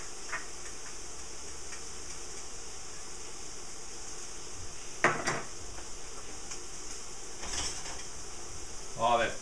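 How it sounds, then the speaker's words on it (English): Pans and utensils clink and clatter on a stove while black cod cooks, a few sharp metallic knocks over a steady background hiss of sizzling. "Lots of pans going today."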